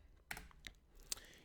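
A few scattered keystrokes sound from a computer keyboard as a search is typed, faint, close and brief, with no talking.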